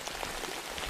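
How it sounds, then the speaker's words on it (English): Steady heavy rain from a tropical storm pours outdoors, a dense continuous hiss of drops on surfaces, close and loud with no voices. "Full on rain."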